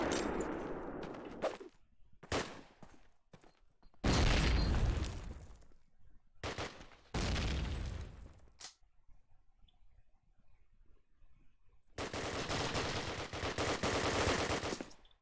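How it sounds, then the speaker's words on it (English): Gunfire and grenade blasts ring out in a competitive shooter esports match, loud bursts of shots and explosions broken by quiet gaps, with a sustained final burst of fire. "The nade connects Mikey out."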